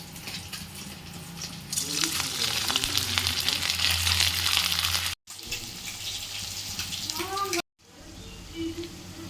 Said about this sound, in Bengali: এগুলো এবারে হচ্ছে লাল করে ভেজে নেব